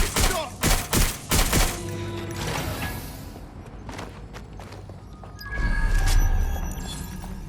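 Gunfire in a firefight in Watch Dogs Legion: a close, loud string of about five heavy shots in quick succession, followed by scattered fainter pops and thuds amid rumbling game ambience.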